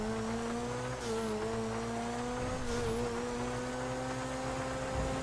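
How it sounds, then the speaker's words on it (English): Steady engine drone of a car held at moderately high revs, with slight pitch wavers and no clear surging rev, running continuously and fairly loud throughout. "Hear that? That's the motor, baby."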